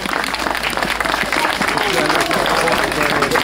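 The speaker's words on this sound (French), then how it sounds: "On l'applaudit également." A crowd applauds race runners at the Corrida de Saint-Germain-en-Laye prize ceremony, with dense, steady, close clapping throughout and voices mixed in beneath it.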